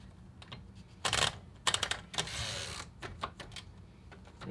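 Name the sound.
typing test on a 1960s Royal Safari typewriter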